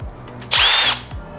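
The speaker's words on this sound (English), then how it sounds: "Drilling holes in your bumper, especially one that was just painted" A power drill bores a hole in a freshly painted Corvette C6 front bumper, a single loud, high-pitched whine lasting about half a second between quiet moments.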